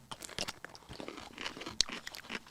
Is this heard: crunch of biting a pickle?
yes